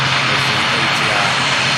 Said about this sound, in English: There's the ATR.